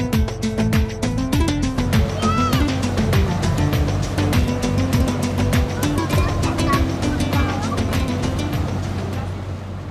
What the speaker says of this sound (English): We are taking a ferry along Ishim River in Astana.